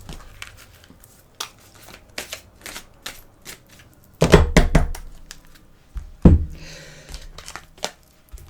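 Tarot cards shuffled and set back down, a run of sharp papery taps and slaps, then a louder burst of handling and thumps on the table partway through, alone without any voice.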